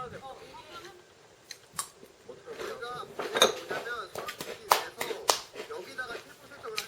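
Crisp, crunchy chewing close to the mic, with irregular bites and crackles while a person talks quietly between mouthfuls.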